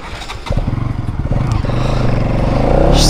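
2023 Bajaj Pulsar NS200 motorcycle running close by, its engine starting up with a rapid pulsing beat that grows louder and steadier, and faint talk in the background.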